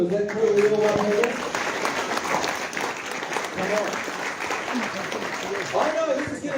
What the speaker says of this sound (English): if you start clapping like that, then you're already warmed up